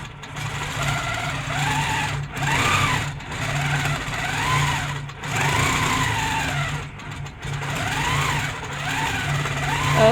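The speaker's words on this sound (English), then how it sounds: "So wherever you put that machine, it's going to quilt that yarn and attach it to whatever you're working on." Steady rapid hum and chatter of a longarm quilting machine stitching yarn onto fabric, running in repeated stretches of a couple of seconds with brief dips between, close and moderately loud.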